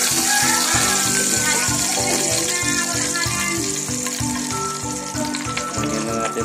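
Hot oil sizzles and fries loudly and steadily in a pan as onion and garlic sauté for a Filipino pork sinigang, a dense continuous crackle that stays close and strong throughout.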